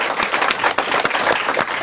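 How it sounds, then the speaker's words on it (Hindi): Audience applause at a health talk on naturopathy and Ayurveda, given in thanks to recovered patients: dense, continuous clapping from many hands with sharper individual claps standing out, steady and fairly loud throughout, with no talk over it. "जो पेशेंट ठीक हुए हैं तालियां बजा के हम उनको थैंक यू बोलते हैं"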